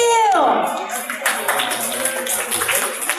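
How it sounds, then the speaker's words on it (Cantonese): A live audience at a Mikiki Pokémon Pika Fever Dance show claps to welcome Pikachu: a falling tone gives way to a steady wash of applause mixed with children's voices and chatter. "我哋用熱烈掌聲歡迎我哋比卡超"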